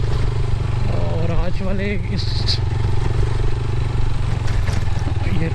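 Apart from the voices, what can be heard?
motorcycle riding on a bad road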